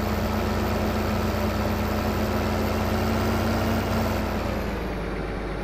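A giant tractor engine idles in the farming game Landwirtschafts Simulator 2015, giving a steady, loud low drone that holds evenly throughout and eases slightly near the end, with no talk.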